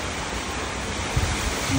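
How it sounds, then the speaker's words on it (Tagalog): Strong wind blowing hard outdoors in a residential area, a loud continuous rushing roar with low buffeting gusts against the microphone and no speech. "Ang lakas ng hangin, no?"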